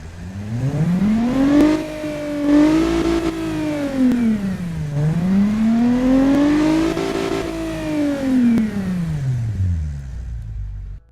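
A front-wheel-drive economy car engine in the Automation car-building game revs up and down repeatedly, its loud droning tone rising and falling in smooth sweeps, alone with no talk over it.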